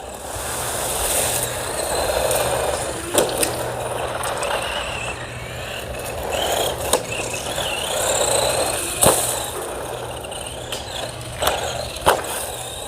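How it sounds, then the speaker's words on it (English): Small Temu Polar Lights RC truck with a broken-in electric motor running steadily, a continuous mechanical whir with occasional sharp knocks and clatters as it drives over rough ground. "now that that motor broke in, it's actually running a lot better"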